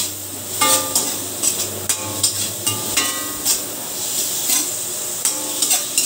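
Tomatoes sautéed in a pan for pork liempo sinigang, a spatula scraping and tapping in a steady irregular rhythm over a constant close hissing sizzle, no talking.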